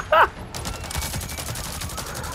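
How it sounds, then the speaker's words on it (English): Rapid machine gun fire in the video game Avatar: Frontiers of Pandora, a dense stream of bursts heard close and loud throughout, following a brief higher-pitched tone at the start. "I'm determined to get him with machine gun."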